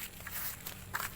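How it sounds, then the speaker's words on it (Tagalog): A child walks on grass, giving a quick run of soft, light footsteps close by over about a second, with no voices. "Naglalakad sa damuhan ang bata."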